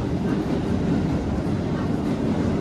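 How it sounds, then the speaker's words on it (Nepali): Train in Japan, a continuous close rumble of rolling wheels and carriage noise with faint rhythmic clatter, steady throughout. "हामी ट्रेनमा चढ्दैछौँ होइन।"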